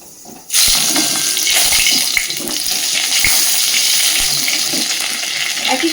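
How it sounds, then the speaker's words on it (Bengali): Nigella seeds and crushed garlic hit hot oil with a sudden loud burst of sizzling, then a dense, continuous crackle that holds strong and close for several seconds, with small pops scattered through it. "প্রথমেই আমি তেলের মধ্যে দিয়ে দিচ্ছি ফোড়নে একটু কালো জিরে আর দিচ্ছি একটু থেতো করা রসুন"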